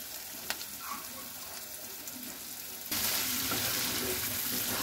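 Meat with lentils and slit green chilies frying in oil in a pan, giving a steady close sizzle with stirring scrapes that grows louder and brighter partway through.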